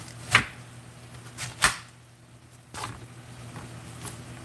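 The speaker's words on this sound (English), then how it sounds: "I'm not going to cut this onion small." Knife chopping an onion into large chunks on a cutting board: a few sharp, separate cuts spaced out with quiet gaps between them, close and fairly soft.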